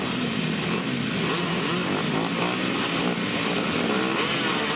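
Several grasstrack racing motorcycle engines rev hard together at the start line, a dense, buzzing roar that stays loud and steady throughout.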